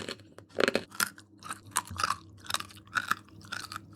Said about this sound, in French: Ah, je croque vite.